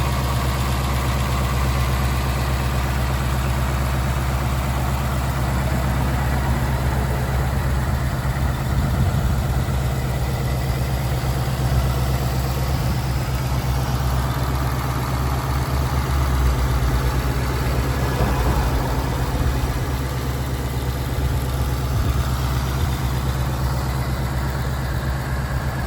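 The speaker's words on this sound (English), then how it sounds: "5 litre V8." A 2022 Ford Mustang Mach 1's 5-litre V8 idles steadily with the bonnet up, a deep, even low rumble holding constant and close throughout with no talking over it.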